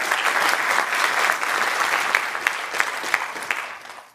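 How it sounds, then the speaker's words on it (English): Conference audience at the opening of RoboCon 2025 applauding, a dense, sustained wash of many hands clapping, with a few sharper individual claps standing out before it fades away at the end. "So please clap."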